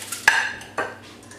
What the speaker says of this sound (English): So basically take the contents of the stew, spoon that on top.